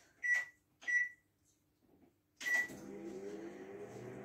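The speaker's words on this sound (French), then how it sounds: "c'est parti pour enfourner pendant 1 minute le chocolat cassé en morceaux avec le beurre" Microwave oven heating broken chocolate pieces with butter for one minute at 600 watts: a few sharp beeps as it is set, then a steady low hum with a faint turntable whir running alone, near and quiet.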